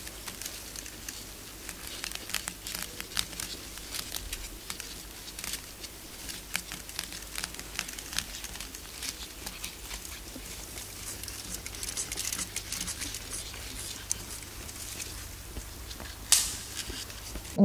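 Paper is crumpled and crinkled by hand in a steady, soft crackling patter that runs throughout, with sharper crinkles here and there.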